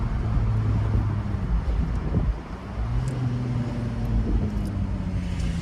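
Jaguar F-Type convertible with a manual gearbox driving, a steady low engine drone and road rumble with wind buffeting, shifting pitch as gears change, continuous and close throughout.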